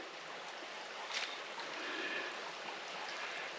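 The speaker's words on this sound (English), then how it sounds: "the more I am scraping away at this, the more water is coming through" Floodwater in the bush rushes steadily through a channel of freshly scraped-away dirt, making a continuous hissing wash with a slight swell midway and no other sounds.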